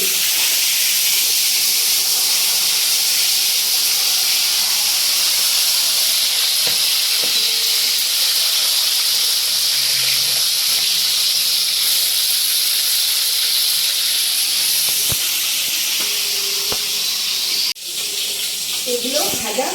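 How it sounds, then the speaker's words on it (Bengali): A fish head frying in hot oil in a home kitchen, a loud continuous close sizzle and hiss that holds steady throughout, with faint clinks near the end. "এইবারে মাছের মাথাটা একটু ভেজে দিচ্ছি।"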